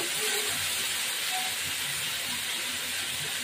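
Salted pieces of pointed gourd frying in hot oil in a pan give a loud, unbroken sizzling hiss that holds steady from start to finish, with no voices.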